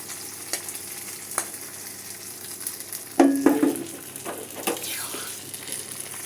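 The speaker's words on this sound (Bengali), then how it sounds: "ঘিতে আর তেল দিয়ে পেঁয়াজ ভাজা খিচুড়িতে দেবে" Sliced onions fry in ghee and oil for khichuri, a steady soft sizzle with a burst of stirring and spatula scraping midway and a few light clicks.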